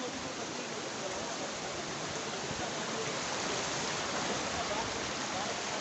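A small waterfall and flowing stream at Kutli Bagh rush in a steady, even wash of water, fairly faint and constant, with a voice speaking briefly over it.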